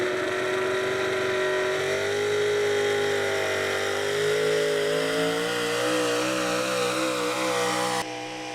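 A big-block, high-output square body Chevy 4x4 pulling truck on a pull track roars close and loud, its engine pitch climbing and wavering through a long rev before cutting off abruptly near the end.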